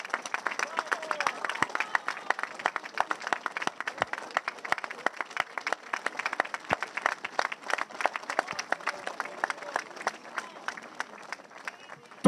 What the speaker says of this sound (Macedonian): Долг аплауз.